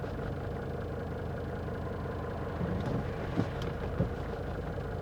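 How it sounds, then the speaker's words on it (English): A Mercedes-Benz S123 300TD wagon with an automatic transmission that flares between shifts, a steady diesel engine drone from inside the car while accelerating, with slight rises and a few small knocks, no talking. "as you can hear, it shifts and then it flares and then it shifts"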